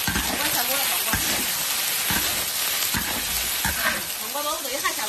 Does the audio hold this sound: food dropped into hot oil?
yes